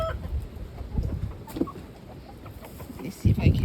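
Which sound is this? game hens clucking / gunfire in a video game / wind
game hens clucking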